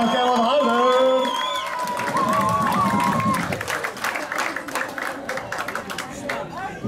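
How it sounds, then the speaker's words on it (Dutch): Crowd applause and cheering for two fighters after a kickboxing bout, building under a voice early on and continuing as steady, dense clapping from a large audience. "Mag ik ten eerste een applaus voor beide vechters?"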